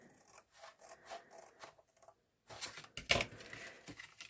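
Paper is cut for a handmade multipocket mini album, with soft scrapes and snips. Faint, scattered strokes come first, then a louder, sharper cut near the end.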